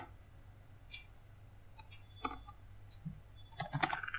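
Someone typing Python code on a computer keyboard, quiet clicking keystrokes in scattered bursts that quicken into a faster flurry near the end, close by over a low background hum, with no talking.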